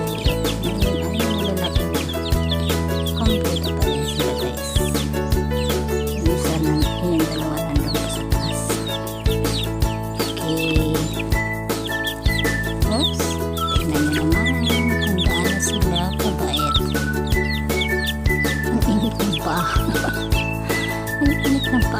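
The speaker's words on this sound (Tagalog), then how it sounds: "Ito na yung mga sisiw noon." Grown chicks of a mother hen cluck and chirp in a busy, continuous chorus, with frequent overlapping calls and a faint tinkling through the scene.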